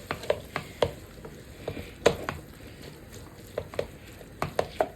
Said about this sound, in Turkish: Şöyle biraz da bunlar kavrulsun.